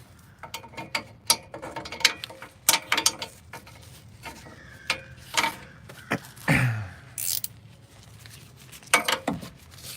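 A wrench ratchets on an engine part of a VW Beetle, close and clicking in short irregular bursts with metallic handling sounds between them, and one longer scraping rasp partway through.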